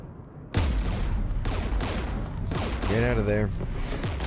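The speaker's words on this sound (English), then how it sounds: "We're taking fire." Gunfire erupts during a firefight in the video game Mass Effect 3, with loud, dense bursts of shots continuing throughout while voices shout over the combat.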